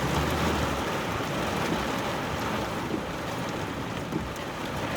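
Steady rain falls during a thunderstorm onto a car parked among trees, a dense, continuous patter and hiss at even loudness with no voices.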